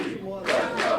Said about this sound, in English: Listen to the great crowd here.